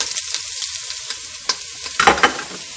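Garlic and onions fry in oil in a heated pan with a soft sizzle, broken by a few sharp stirring scrapes and clatters near the end.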